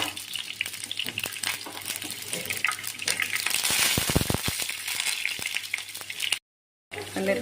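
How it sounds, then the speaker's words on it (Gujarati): Mustard seeds crackle and pop in hot oil while tempering for sev khamani, a dense close sizzle running steadily before a short break near the end. "રાઈને બરાબર એકદમ ચટકવા દેવાની"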